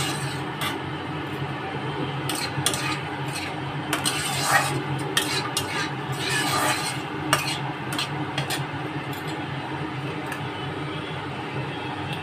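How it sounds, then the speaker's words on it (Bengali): Vegetables are stirred in a frying pan, with soft repeated scraping and rubbing strokes over a low steady sizzle, close and without any talking. "এটাকে একটু নেড়ে চেড়ে নিয়ে একটু লাল হবে।"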